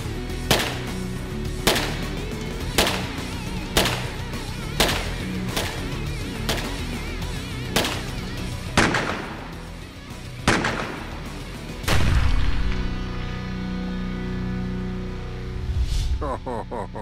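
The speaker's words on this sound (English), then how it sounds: "Like how to shoot the 41, this is like the classic target gun of all time." Repeated sharp gunshots from a Model 41 rimfire target pistol fired at a range, about a dozen evenly spaced cracks ringing out loud and close, with brief talk between shots.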